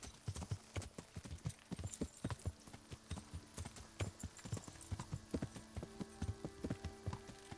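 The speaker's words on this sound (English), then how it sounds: "Where's my horse?" Horse hooves in the medieval video game Kingdom Come: Deliverance, a steady rapid clip-clop of a trotting horse, clear and even throughout against a faint humming game background.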